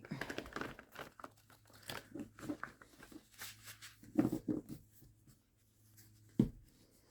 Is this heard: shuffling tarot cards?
yes